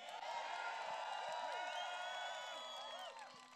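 A live outdoor rally crowd in Washington, D.C. applauds and cheers for police, a dense wash of clapping with whoops and shouts rising over it, holding steady before easing off at the end.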